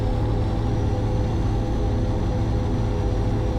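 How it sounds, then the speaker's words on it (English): A truck engine in the American Truck Simulator game drones low and steady, a continuous rumble with no breaks and no one talking. "Can you guys hear the truck okay?"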